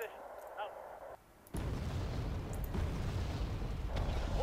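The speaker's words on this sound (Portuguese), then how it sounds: "A artilharia do cara tá caindo aqui absurdamente" Artillery shells land in the Wargame: Red Dragon real-time strategy game: a quieter stretch gives way to a sudden heavy blast, followed by a continuous, loud, rumbling barrage of impacts.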